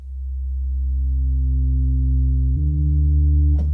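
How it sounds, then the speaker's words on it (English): A synthesized sine-wave bass note drones steadily and loudly, its pitch stepping down once partway through, alone with no voices. "Actually, a sine wave is really good for this."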